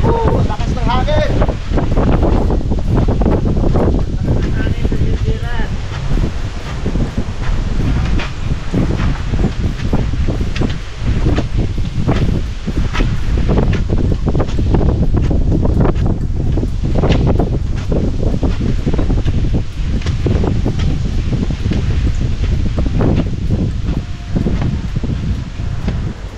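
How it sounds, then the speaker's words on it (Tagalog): Strong, cold wind in New Zealand roars and buffets the microphone without letup, with rustling and gusty rumble throughout and people talking over it. "Lakas ng hangin!"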